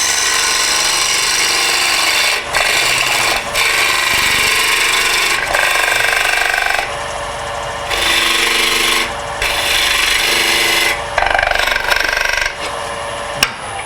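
A wood lathe cuts a tenon on a wet log bowl blank. The tool gives a loud, steady rasping scrape that breaks off in short gaps and comes back in bursts, close by, with no voices.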